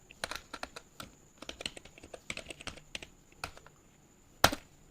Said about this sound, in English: I'm typing the name node.js first program.